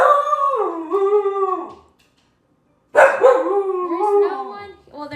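A pet dog howls loudly and close, two long wavering howls separated by a brief silence, the second breaking into yips and barks.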